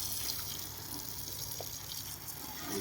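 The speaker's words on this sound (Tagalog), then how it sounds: "Diligan pagkatapos sa pagtanim para siguradong mabubuhay." Water is poured over newly planted plants, a faint, steady splashing and trickling hiss that runs continuously without talk.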